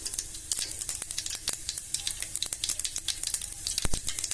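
Mustard and fenugreek seeds crackle and sizzle in hot oil in a pan for radish sambar, with dense rapid pops over a steady frying hiss, close and continuous.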